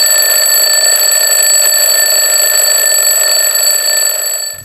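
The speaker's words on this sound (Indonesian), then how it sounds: "Dari alarm memecah semuanya" An alarm rings loudly and close, an unbroken electronic tone with bright harmonics that holds steady for several seconds and then cuts off abruptly.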